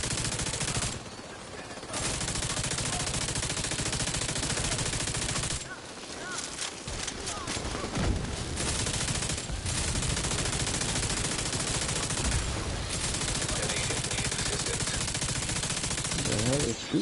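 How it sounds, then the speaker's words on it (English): Sustained automatic gunfire fills a firefight in The Division 2 on PS5, loud and nearly continuous with brief lulls, as a player talks over the shooting. "What the hell is shooting me?"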